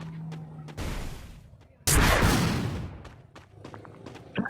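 Gunfire in a video game comes as two loud, sudden blasts about a second apart, each trailing off in a rumbling decay, with faint clicks and scattered noises between them.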